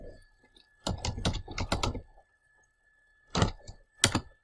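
A computer keyboard is typed on to enter a file name: a quick run of close key clicks for about a second, then a pause and two short final bursts of keystrokes.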